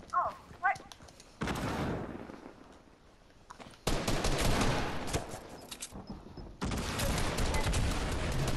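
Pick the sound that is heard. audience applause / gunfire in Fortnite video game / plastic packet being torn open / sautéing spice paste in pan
gunfire in Fortnite video game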